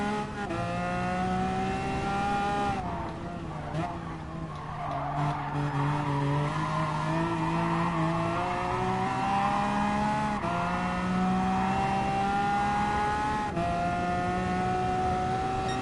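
A Bugatti Veyron race car in Gran Turismo Sport runs loud and steady for the whole stretch, its engine rising and falling through gear changes, with tire squeal and skidding through the turns and no talking over it.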